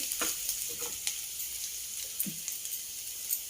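Tempering for coconut rice sizzles and fries steadily in a pan, with asafoetida added. A continuous bright hiss carries faint stirring clicks and small spatters throughout, with no voices.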